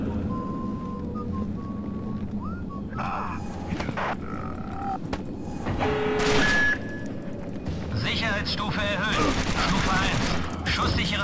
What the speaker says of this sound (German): Schieß nochmal, um sicher zu gehen.